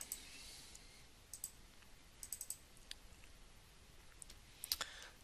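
A computer mouse clicks a few times, sparse soft clicks in small clusters over a quiet steady hiss.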